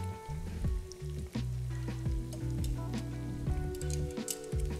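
Tonkatsu pork cutlets fry in a pan for katsudon, giving a steady close sizzle with soft bubbling and popping crackles that carry on without a break for several seconds.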